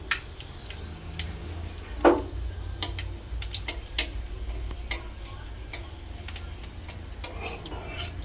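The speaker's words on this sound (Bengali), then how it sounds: "দেখো আমি কড়াই তেল দিয়ে দিয়েছি, দিয়ে দিলাম 5 ফোড়ন, দিয়ে দিলাম একটা শুকনো লঙ্কা" Panch phoron five-spice seeds and a dried red chili fry in hot oil in a kadai, a quiet sizzle dotted with scattered sharp ticks and pops and an occasional utensil clink.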